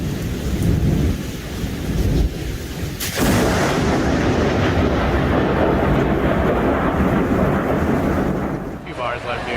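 A loud, sudden crack of thunder from lightning striking a tree bursts in and then rolls on as a sustained, broad rumble close by, with rain noise beneath, fading near the end.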